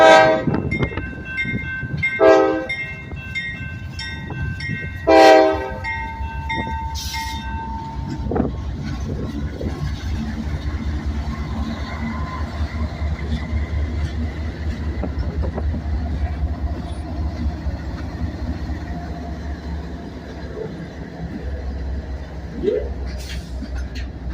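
Rail cars roll through a switching yard with a steady low rumble and clanking, while a loud train horn blasts twice near the start; the movement continues underneath for the rest of the clip.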